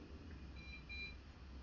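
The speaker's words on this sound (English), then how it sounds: "1 beep is 30 minutes." A ceiling fan's timer button gives a single faint, high electronic beep after one press, alone over a steady low hum in a quiet room.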